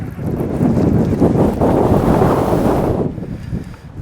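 Strong wind blows across open water while fishing from a boat, roaring hard into the microphone as continuous buffeting for about three seconds and then dropping to a quieter gusty rush.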